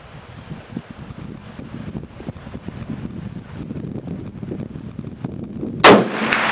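A single loud, sharp report from a Contender .300/221 rifle cracks out near the end, after several seconds of outdoor wind rumble against the microphone.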